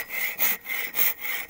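A hand saw cuts through wood in rhythmic back-and-forth strokes, about five rasping pulls with brief gaps between them, close and clear.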